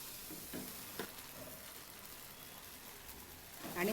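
A thick pumpkin-cucumber barfi mixture is stirred in a pan after sesame seeds go in, soft sizzling under a few scraping strokes, quiet and close, with louder scraping at the end.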